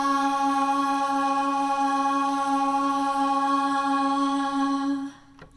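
A sampled vocal siren tone holds one long, loud, steady note with rich stacked harmonics for about five seconds, then cuts off abruptly into near silence, with no effects applied.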